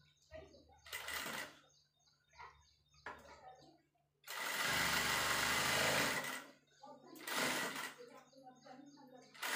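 A sewing machine stitching a katori blouse runs in short close bursts, with one long steady whir in the middle, while someone talks between the runs.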